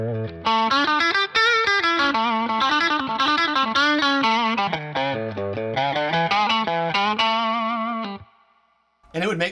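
Electric guitar played through a pedalboard with its pickups out of phase gives a thin, nasal, bluesy tone with distortion and chorus. A continuous melodic phrase rings loud and up close, then cuts out abruptly near the end before a brief restart.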